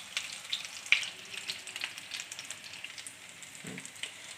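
Potato and radish-leaf kebabs frying in a pan, a soft continuous sizzle and crackle with a faint clink midway, quiet and close, with no talking.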